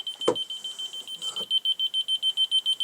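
Shijing laser level receiver beeping loudly, a fast regular train of sharp high-pitched beeps after a brief click, close and insistent.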